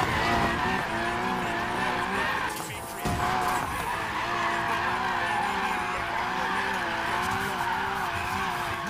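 A car drifting in Need for Speed Payback, its tires squealing loudly and continuously over a steady engine drone, with a brief dip in the middle before the screech resumes.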